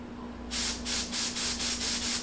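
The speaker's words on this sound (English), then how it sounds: "turn your airbrush on here and just give it a few quick rinses with some lacquer thinner" Airbrush spraying lacquer thinner through to rinse it, in about six rapid hissing bursts, evenly pulsed and close, over a constant low electrical hum.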